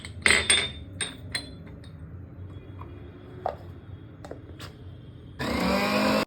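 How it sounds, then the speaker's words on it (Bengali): A kitchen mixer grinder blends ginger, garlic and chili into a paste with water. Light clinks and taps of utensils and a jar come first, then the motor bursts into a loud, steady whir near the end. "এবার সামান্য জল নিয়ে আদা, রসুন আর লঙ্কার পেস্ট বানিয়ে নেব।"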